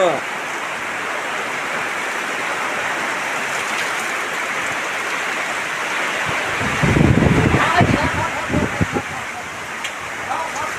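Heavy rain pours steadily in Kerala around a worker's tarp shelter held up by a pole, a dense continuous hiss that swells louder about two-thirds through, with faint voices underneath.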